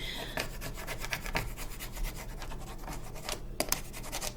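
Scraper tool rubbing vinyl and transfer tape down onto plywood, repeated close, rough scratching strokes in a quick uneven rhythm, no voices.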